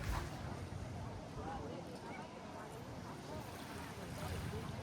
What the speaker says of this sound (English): There's still a bit of wind,